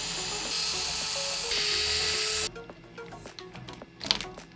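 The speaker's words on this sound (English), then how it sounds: "I'm going to remove the 3 screws holding the links to the skid plate." Screws come out of the skid plate on an Axial SCX10-II RC crawler chassis: a steady, close whine of a small powered driver for a few seconds, then it cuts off and light clicks and rattles follow.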